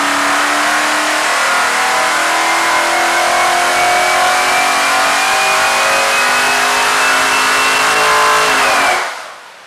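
Car engine fitted with a K&N air filter revving hard on a dyno, a loud sustained rising whine and roar climbing steadily for about nine seconds before cutting off abruptly.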